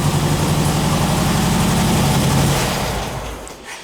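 An old trike engine, freshly fitted with new points and retimed, idles steadily with a low, even throb, close and loud, then winds down in the last second.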